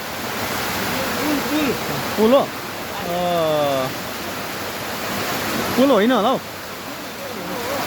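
Heavy rain pours at Dupcheshwar Mahadev temple, near a footbridge crossing and a waterfall. A dense, steady hiss fills the whole stretch while people briefly talk over it.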